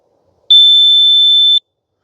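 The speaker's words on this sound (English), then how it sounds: "press and hold first set button, the one in the center, until it beeps" A single steady electronic beep from a Ghost Controls solar gate opener control box, loud and close, lasts about a second in otherwise quiet surroundings.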